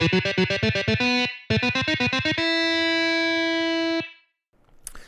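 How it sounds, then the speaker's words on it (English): Rapid, short, clipped staccato notes with a gritty distorted tone, two quick bursts separated by a brief gap, then a single sustained note and a faint noise. "staccato is playing short and separated notes"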